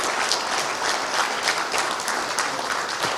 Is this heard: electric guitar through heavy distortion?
no